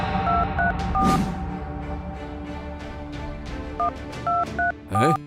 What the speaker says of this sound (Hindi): जटिया का फोन तो लग नहीं रहा।